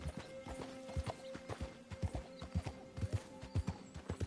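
Horse hooves galloping in Red Dead Redemption 2, a steady, rapid clip-clop rhythm of hoofbeats, close and fairly clear, with soft background ambience and no talking.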